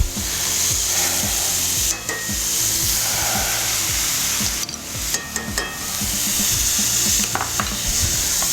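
Oysters and shrimp with lemon slices, lime slices and butter stirred in a smokehouse pan, giving steady scraping and rubbing strokes over a continuous sizzle, with a few brief louder clatters and no talk.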